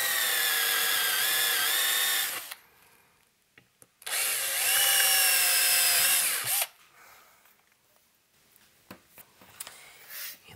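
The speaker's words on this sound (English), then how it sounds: "we got all our mounting holes drilled" A power drill whines in two long, high-pitched bursts with a pause between, drilling mounting holes in a 1930s Globe tube amp chassis, followed by scattered clicks and light handling noises.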